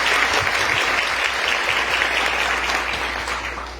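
A church congregation applauds together during a Catholic sermon, steady broadband clapping that stays loud throughout before easing slightly at the end.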